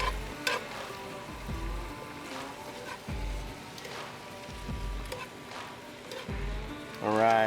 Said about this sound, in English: So we got our Brussels and onions adding to the pan.